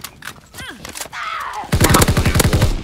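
A BAR machine gun fires in the video game Call of Duty WW2, first a few scattered shots amid game sounds, then a loud, rapid burst of evenly spaced rounds over the last second.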